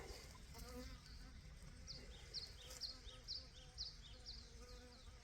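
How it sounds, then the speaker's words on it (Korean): Three honeybees buzzing around a beehive in rural Gangwon Province, South Korea, circling the hive and darting in and out; the buzzing drifts near and far over steady outdoor ambience with no speech. "세 마리가 왔다 갔다 해 벌통주의를 맴돌면서 들어갔다 나왔다 계속 하는데"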